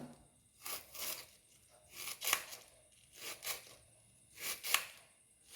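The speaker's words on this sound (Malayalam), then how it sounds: "അതിന് ശേഷം നമ്മുടെ കാബേജ് നമുക്ക് നൈസായിട്ട് ഇങ്ങനെ നീളനെ അങ്ങോട്ട് അരിഞ്ഞെടുക്കാം" A knife slices cabbage lengthwise into thin strips, giving soft crunchy cuts in small paired bursts with short pauses between them, close up and fairly quiet, with no talk.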